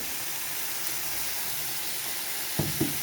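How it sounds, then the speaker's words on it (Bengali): Ground spices are fried down in a pan for an egg and soya chunk curry, giving a soft, even sizzling hiss at low level, broken near the end by two quick knocks of a spoon or utensil. "গুঁড়ো মশলাগুলো দিয়ে খুব ভালো করে কষিয়ে নেব"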